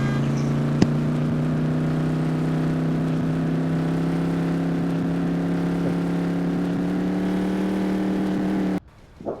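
A Mustang car in the video game Dynamic Ragdoll Engine drives with a steady, droning engine hum that stays even and loud, then cuts off abruptly near the end.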